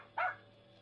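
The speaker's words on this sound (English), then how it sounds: "Jeff, you fool dog, come back here." A single sharp dog bark, a short bright yelp standing out near and alone over a quiet background, used as a sound effect in an old-time radio drama ghost story.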